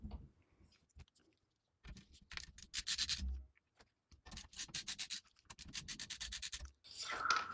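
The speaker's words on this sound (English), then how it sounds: "next we need to take out these 5 screws out of the GPU cage" Small screws being worked loose from a metal GPU cage inside a Thermaltake TR100 small-form-factor PC case, heard as close, short bursts of scraping and rubbing with brief quiet gaps between them.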